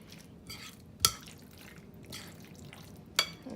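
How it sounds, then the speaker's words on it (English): Black pepper is stirred into chicken pot pie filling, giving a quiet, wet mixing swish with two sharp clinks of a spoon against the pot. "So, putting my black pepper in there, and I'm gonna mix it up again"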